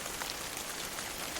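Steady rain falling on a surface, a dense continuous hiss of drops with no voices.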